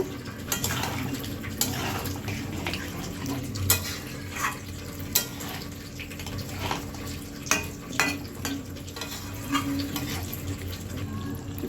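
Chicken masala fried and stirred in a pan: a steady sizzle under repeated sharp scrapes and taps of a spoon against the metal, coming every second or so.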